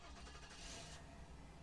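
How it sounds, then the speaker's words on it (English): A car engine in a video game cranks and catches, rumbling briefly into a low idle; short and somewhat muffled. "Roger hears a car start up right outside."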